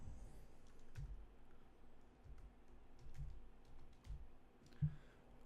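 Soft, irregular keystrokes on a computer keyboard, fairly close and quiet, with scattered clicks over several seconds and no talking.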